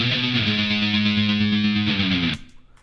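A sustained, heavily distorted electric guitar chord with tremolo, played through a bias amp into plate reverb, rings steadily for about two seconds, then cuts off sharply, leaving a short reverb tail fading out.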